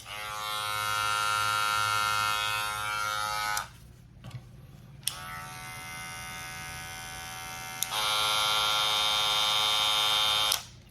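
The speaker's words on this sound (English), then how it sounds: "a lot of the clippers sound a lot louder through the camera" Hair clippers buzz loudly in a steady high-pitched drone, stop for a few seconds with faint handling clicks, then run again, close and alone with no talk.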